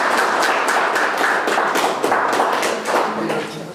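Audience at a martial arts club award ceremony claps in a dense, steady round of applause, fairly loud and close, fading slightly toward the end.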